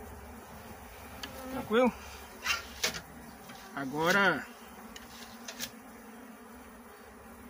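Agitated Apis honey bees swarm inside a gourd bait trap, their close, steady buzzing broken by several sharp, rising whining bursts, with a brief spoken word.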